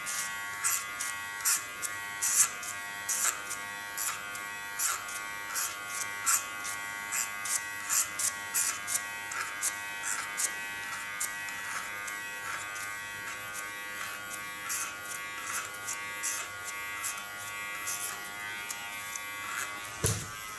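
An electric hair clipper buzzes steadily close by while contouring a woman's neckline during a haircut, its hum broken by frequent short bursts as the blades move along the hair over about twenty seconds.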